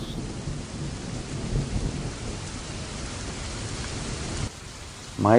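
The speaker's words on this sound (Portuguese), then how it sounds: "Raios e trovões de uma tempestade pareciam ainda mais" A thunderstorm on a February night near a prison: steady heavy rain hisses throughout while low thunder rumbles under it, with a brief drop and a new swell near the end.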